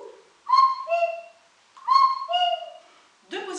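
A slide whistle plays a two-note cuckoo owl call, falling from high to lower, repeated twice in an even rhythm, clear and close, with a third call starting at the end.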